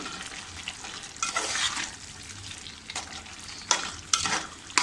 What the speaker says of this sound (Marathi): व्यवस्थित अशी ढवळून घेऊया आतमध्ये